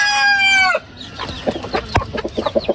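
Egg-laying breeder chickens at feeding time: a rooster crows loudly and close at first, then hens cluck in short, scattered bursts nearby.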